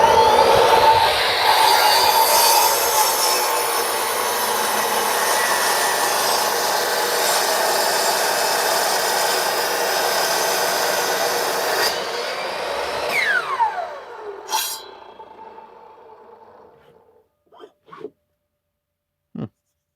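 A miter saw with a new blade cuts through hardwood scrap, a loud sustained whining roar that ends in a falling spin-down, then a few sharp knocks in quiet.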